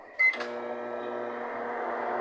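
A microwave oven in the Toca Boca video game starts up with a short bright beep, then settles into a steady electronic hum that runs close and even to the end.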